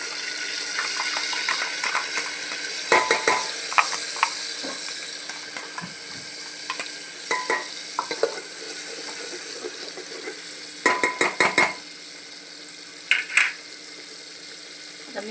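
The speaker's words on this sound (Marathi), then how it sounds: "आता मी वाटण घालून घेते" Ground spice paste hits a pan with curry leaves and fries with a steady soft sizzle, broken by sharp scraping and stirring clatters in clusters, close and moderately quiet.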